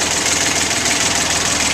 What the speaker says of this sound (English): Here's the port side engine.